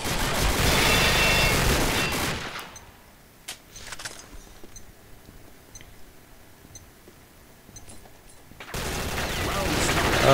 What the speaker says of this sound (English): Look at him going wild with the minigun.